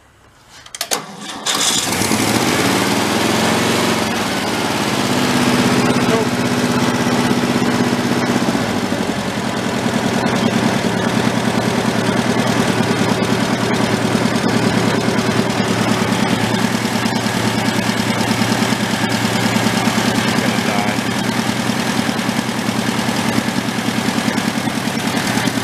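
Antique tractor engine cranking briefly, then catching and running steadily at a loud, even idle that goes on without a break.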